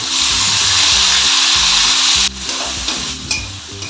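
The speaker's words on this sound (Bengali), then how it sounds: "আলুটা একটু নেড়ে চেড়ে" Potatoes sizzle loudly in a pan of hot oil after shrimp was fried in it, with a spoon stirring and scraping in a quick repeating rhythm. The hiss then drops and eases into a softer frying sound.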